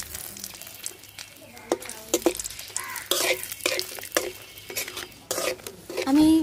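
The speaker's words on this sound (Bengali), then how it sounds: "এই যে শুকনো মরিচ আর তেজপাতাটা হালকা ভাজা হয়ে গেছে" Dried red chillies and bay leaves frying in leftover fish-frying oil for a catla fish dish, with spoon-stirring scrapes and pan clatter over a steady sizzle, close and moderately loud.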